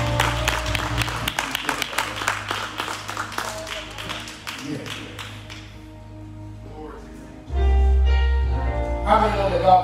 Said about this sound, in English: give God a hand clap for him